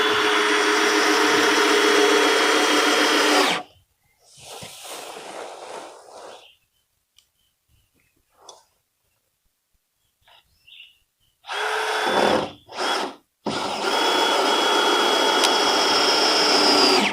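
A power screwdriver drives screws into a tiny house floor in loud, sustained whirring bursts, with short quieter spurts and near-silent gaps between drives.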